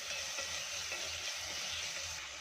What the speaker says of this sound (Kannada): ಹಾಗೆ ಇಲ್ಲಿ ಚೆನ್ನಾಗಿ ಇದನ್ನು ಕೂಡ ಫ್ರೈ ಮಾಡ್ಕೋಬೇಕು